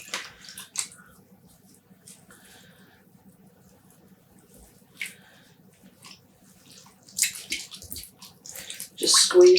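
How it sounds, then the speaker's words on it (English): Soft wet squishing and dripping as excess water is squeezed out of freshly dyed yarn, a few gentle splashes and trickles in a quiet room, louder toward the end. "Just squeezing out some of the excess water."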